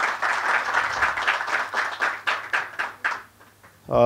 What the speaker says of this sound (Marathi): आपण सर्वांनी टाळ्या वाजवून त्यांचं स्वागत करावं